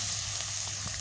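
Garlic and ginger paste fries in a pan with a steady, close, even hiss that holds for the whole brief moment, with no voices over it.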